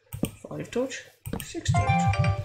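A mobile phone ringtone chimes in a rising-and-falling melodic pattern late in the moment, partly under a man counting aloud on a survival island.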